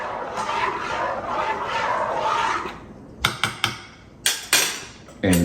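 Spoon scraping and clinking against a container while condensed milk is stirred into soursop punch: a steady swishing stir, then a handful of sharp metallic knocks near the end.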